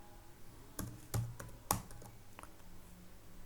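Several distinct keystrokes on a computer keyboard during HTML list-tag coding work, with a handful of crisp taps clustered in the first two seconds, then softer scattered clicks over a quiet room.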